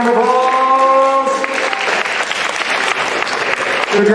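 An audience at a virtual school assembly breaks into steady, dense applause, which swells after a brief spoken moment and holds at a strong, even level.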